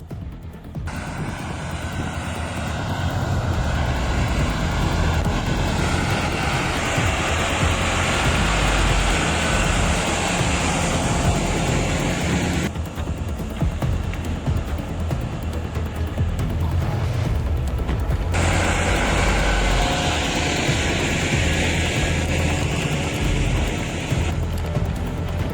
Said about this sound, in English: Its diesel engine roars nonstop as the powerful tractor drives forward